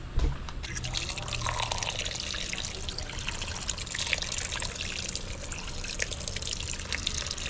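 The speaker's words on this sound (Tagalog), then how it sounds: "lagyan natin siya ng kaunting tubig para naman hindi siya matangtang" A small amount of water is poured into a dish being cooked after salting, producing a steady, continuous trickle and splash that runs throughout at moderate loudness without pause.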